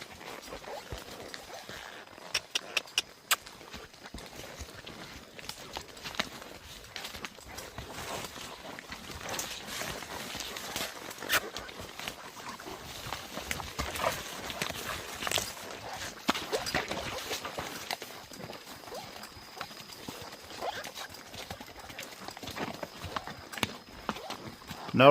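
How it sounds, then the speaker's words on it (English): A gaited Saddlebred racking horse walks calmly along a trail with another horse close behind, its hooves giving a steady, fairly quiet clip-clop over outdoor ambience for the whole stretch. "Notice how calmly she walks."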